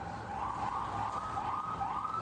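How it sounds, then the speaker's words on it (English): A police car siren wails in a steady rising and falling cycle, moderately loud and continuous over low traffic rumble, with no voices. "With the police sirens."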